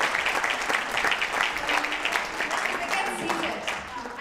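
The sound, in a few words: audience applause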